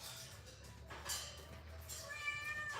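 A cat meows softly a couple of times over a low background hum, fairly close by.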